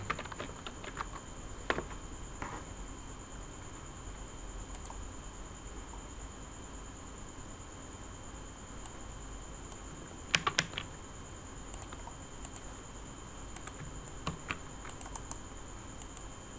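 Keys clacking on a computer keyboard during a software tool demo, sparse bursts of quick close taps with pauses between them over a low steady hiss, no talking.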